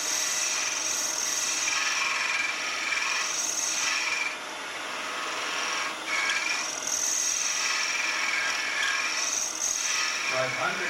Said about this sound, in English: Now I can take my spindle gouge with that long edge and refine